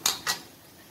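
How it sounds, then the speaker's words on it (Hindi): Crunchy poha balls being lifted out of a kadhai, with two quick, bright metallic clinks of a utensil against the wok close together, followed by quiet. "अब हम इसको कढ़ाई से बाहर निकाल देंगे।"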